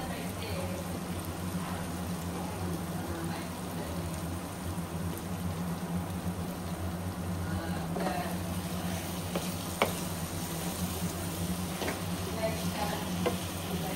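A steady, close sizzle of curry frying in a pan on the stove, with soft scraping stirs breaking through now and then over a constant crackling hiss.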